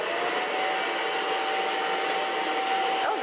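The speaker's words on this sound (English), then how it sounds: "I need to hoover the flat" A vacuum cleaner runs continuously while hoovering a flat, a steady loud whining drone close by with no break and no talking.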